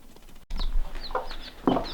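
Icelandic chickens and chicks in a barn: a few soft clucks and short high peeps from nearby birds, with a louder cluck near the end.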